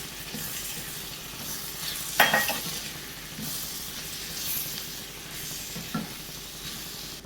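Chopped tomatoes are stirred into a hot pan for tomato chutney, giving a steady moderate sizzle broken by two louder scraping stir strokes.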